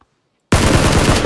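A loud, rapid burst of automatic gunfire in the video game PUBG starts abruptly after half a second of silence, the shots racing at a fast even rhythm up close until the end.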